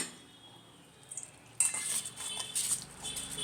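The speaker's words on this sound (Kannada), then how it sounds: "ಈಗ ಇದನ್ನು ಸ್ವಲ್ಪ ಮಿಕ್ಸ್ ಮಾಡೋಣ" A spoon scrapes and clinks in a bowl as bread roast batter is mixed. The clip is quiet at first, then the stirring sounds grow busy and fairly close.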